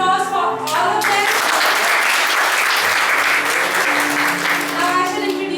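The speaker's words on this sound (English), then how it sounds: "can we have a big round of applause for all of them?" An audience gives a big, loud round of applause for the cast after a college stage production of Paradise Lost. The dense clapping swells and holds for several seconds, with voices briefly before and after.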